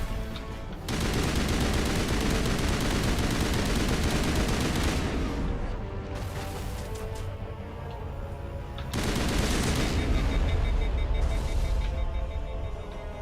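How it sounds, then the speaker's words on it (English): Gunfire in the Mass Effect Legendary Edition video game, dense continuous rapid shooting in two long bursts separated by a short lull, loud and close with no talk over it. "Stop shooting at me like that!"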